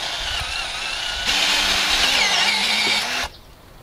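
A power drill with an 8.5 mm bit bores into an aluminium engine cylinder, a steady close whine that rises in pitch and loudness for about two seconds, then cuts off abruptly.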